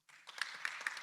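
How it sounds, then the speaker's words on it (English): At a regional symposium, an audience starts applauding as a speaker is welcomed, with soft clapping that begins abruptly and builds into a faint, steady patter, brief and somewhat distant. "please welcome Dr. Marius with a big round of applause"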